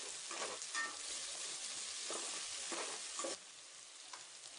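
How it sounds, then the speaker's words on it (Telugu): Ginger garlic paste fries in a pan, giving a steady close sizzle with occasional soft stirring scrapes that ease off slightly near the end. "అల్లం వెల్లుల్లి ముద్ద 1 టేబుల్ స్పూన్ వేసుకుని కొంచెం పచ్చివాసన పోయే వరకు 2-3 నిమిషాల పాటు బాగా వేపుకోవాలి."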